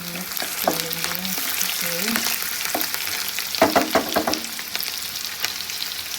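Potato, onion and tomato curry with mustard seeds sizzling in a pan while a spoon stirs it, giving a steady hiss with a short burst of scraping clatter midway. The sound is near and there is no speech.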